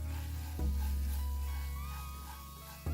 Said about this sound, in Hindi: हम इसे थोड़ा सा भून लेंगे, ज़्यादा नहीं भूनना है।